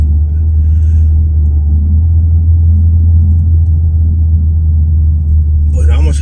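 A Volkswagen Tiguan 1.5 TSI R-Line drives along near Bilbao with a loud, steady low cabin rumble of engine and road noise, constant throughout, while a voice talks at the very end.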